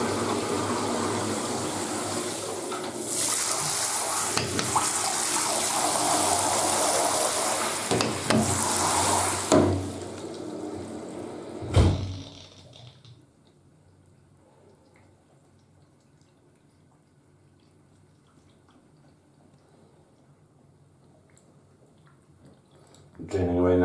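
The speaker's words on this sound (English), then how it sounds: "Draining away nicely, and yeah, dry as a bone." Water draining through a newly fitted bath waste, a loud, rushing gurgle that runs steadily for about ten seconds, gives a short thump, then drops to a faint trickle and near silence.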